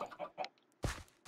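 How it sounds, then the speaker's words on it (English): Minecraft chickens cluck in short, close bursts, a few quick clucks followed by a couple of louder squawks within about a second. "So, we have all these chickens."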